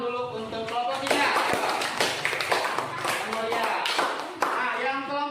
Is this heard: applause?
yes